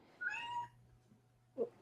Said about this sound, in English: Your kitty agrees with me. Yeah, that's Peaches. She's yelling.